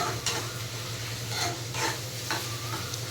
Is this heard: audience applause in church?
no